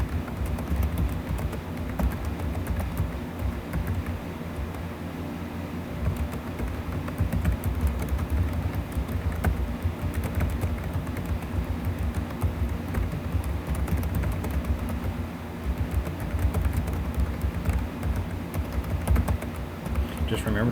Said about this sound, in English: So we're going to type in this information.